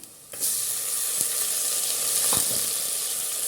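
Onions and tomatoes for a squid curry hitting a hot oiled pan, bursting into a loud, steady sizzle after a brief quiet moment, with occasional stirring scrapes underneath and no voices.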